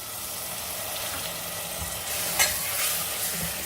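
Chana dal and potato sabzi fries in a pan while being stirred, giving a steady close sizzle with soft scraping strokes and no voices.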